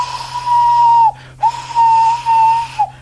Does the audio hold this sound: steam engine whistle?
yes